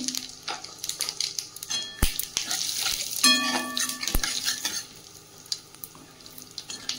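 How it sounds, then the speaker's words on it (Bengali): Dried red chillies and cumin seeds crackle and sizzle in hot oil while a spoon stirs and scrapes the pan, with occasional metallic clinks. "মশলাগুলো ভালোভাবে ভাজা হয়ে গেছে"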